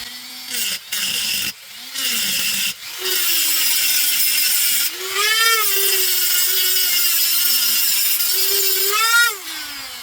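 A saw cuts through soft metal while a carriage bolt is fitted for a drum kit build. The cutting is loud and continuous, with a whining tone that rises and strains in bursts after a few short starts.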